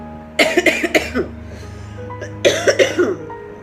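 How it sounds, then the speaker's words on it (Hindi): Two bursts of harsh coughing from a pregnant woman with a viral fever, each a quick run of several coughs, close and loud, separated by a short pause. "खांसी तो अभी भी चल रही है मेरी"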